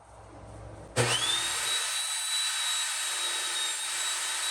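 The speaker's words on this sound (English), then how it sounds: "I'm gonna put my blade at a slight angle and rip it." A power saw spins up abruptly and then runs at a steady high whine while its blade, tilted at a slight bevel, rips a board for building a porch; the sound is close and loud.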